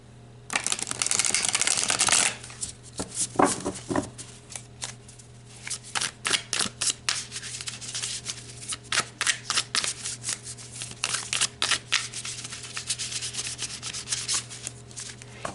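Tarot cards being shuffled by hand for a pick-a-card reading: a long riffling rub at the start, then a steady run of crisp card slaps and flicks over a faint constant hum.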